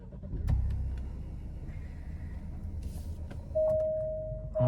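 The 2-liter turbocharged four-cylinder of an Alfa Romeo Stelvio SUV cranks and catches, then settles into a quiet, steady idle heard from the cabin, with a faint electronic tone near the end.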